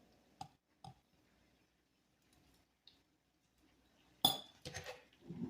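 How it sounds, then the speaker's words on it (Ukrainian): An egg cracked into a small bowl: two sharp taps against the rim, a faint click, then the shell breaking open with a close, crisp crunch and wet spill. "Розіб'ю то яйце, чуть підсолю."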